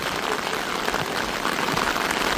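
Heavy rain pouring steadily at Mount Fuji in Japan, a dense, even hiss of drops hitting surfaces close by, constant and loud throughout with no talking.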